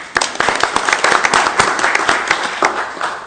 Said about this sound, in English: So now you can applaud.